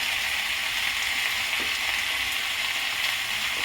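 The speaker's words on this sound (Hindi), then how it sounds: "गैस को मैं हाई फ्लेम पर कर रही हूँ और इसे मैं थोड़ा भून लेती हूँ।" Litti chicken masala roasts on high flame with salt in a pan, giving an even, dense sizzle and crackle throughout, close and steady with a faint stir or two.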